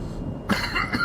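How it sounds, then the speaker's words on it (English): A single close, rough cough bursts out suddenly, followed by a brief second cough, against a low steady background hum. "I'm going to do something about this cough."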